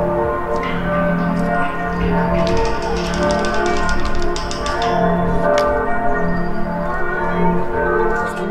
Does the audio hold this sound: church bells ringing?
yes